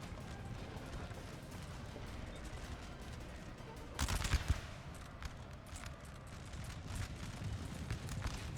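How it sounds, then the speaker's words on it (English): Musket volley in Napoleon: Total War, a dense crackling burst of massed gunfire over a continuous rumbling battlefield din, with scattered distant shots before and after. "Nice return volley from France there."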